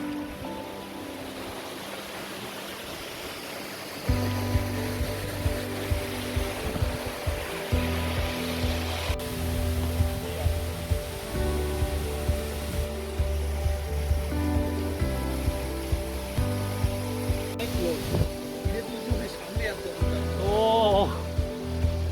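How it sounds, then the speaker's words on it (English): Pelverata Falls in Tasmania, heard from its base as water crashes down in a steady wash. Music plays over the top, and a voice speaks briefly near the end. "Look at this water coming down."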